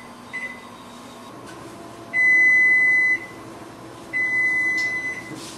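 An oven timer gives two long electronic beeps a couple of seconds apart over a steady hum of appliance noise.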